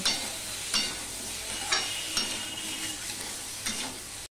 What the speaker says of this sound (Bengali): এবার কাঁকরোল আর আলুটা আমি একসাথে ভেজে নেব।